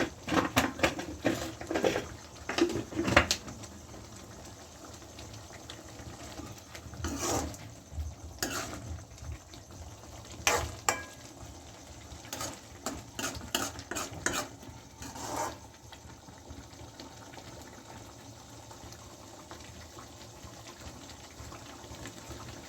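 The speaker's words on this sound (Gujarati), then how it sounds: "થોડીક વાર હલાવશું, પાણી ના બળે ત્યાં સુધી." A spoon stirs sev bhaji curry simmering in a pan, with repeated scraping strokes and faint bubbling sizzle close by, no talk.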